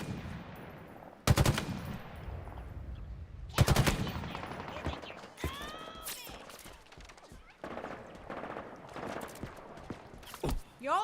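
Automatic weapon fire in the video game Halo Infinite: several sharp, loud bursts spaced a few seconds apart, with quieter shots and in-game effects between them.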